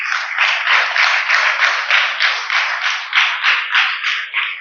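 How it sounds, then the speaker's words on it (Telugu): A church congregation claps loudly and steadily during a ceremony honoring a priest, a dense, continuous burst of many hands with a slightly pulsing rhythm and no talking. "గట్టిగా చప్పట్లు కొట్టండి."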